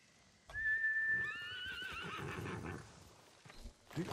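A horse in the video game Ghost of Tsushima lets out a loud, close whinny that rises and trembles over a couple of seconds, followed by snorting and faint hoof clatter.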